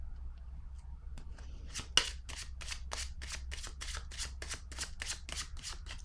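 Cards are handled up close during a card reading in a quiet room: a soft tap, then a run of rapid papery riffles like shuffling, with no voices.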